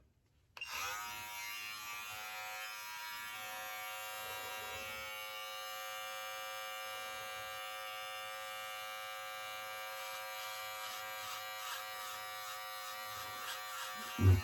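Electric razor buzzing steadily while trimming a beard at the sideburn, a close, continuous high whine starting after a brief silence and holding for the whole stretch, with no talk.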